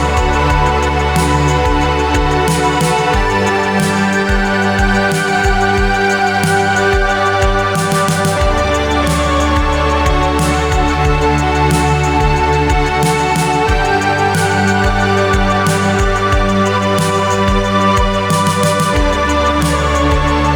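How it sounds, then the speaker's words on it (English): Sustained, dense Sequential Prophet 6 synthesizer chords run through guitar effect pedals, washed in shimmering effects and reverb, with a pulsing low bass line and bright high accents, loud and continuous. "Today I'm going to show off some different pedal combinations with the Prophet 6 from Sequential."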